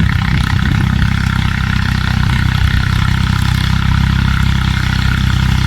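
A Ford farm tractor, a towing-only model with no blade or plough, runs steadily and loudly after a pump repair, its low engine drone holding constant throughout with no voices.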